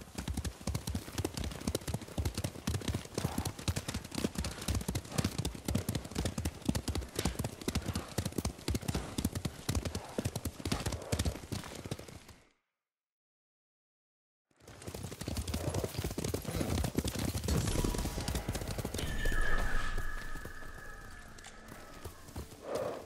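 Galloping horse hooves from a ridden mount in Ghost of Tsushima, a fast steady clip-clop close up that runs continuously, breaks off into brief silence, then resumes with a snort or whinny near the end.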